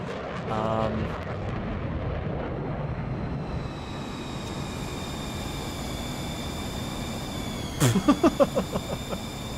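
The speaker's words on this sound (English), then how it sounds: "Get those reverse thrusts going. Nice, spoilers are going." An airliner roars with reverse thrust while landing in Microsoft Flight Simulator 2024 on PS5, a loud sustained jet rumble with rising whine that fades, followed near the end by a short series of thumps and rattles.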